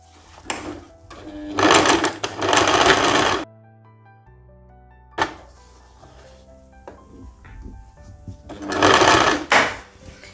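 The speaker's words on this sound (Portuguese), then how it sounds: "E vamos costurar." Sewing machine stitching a women's button-up blouse, running in several loud bursts of rapid whirring with short pauses and quiet handling sounds between them.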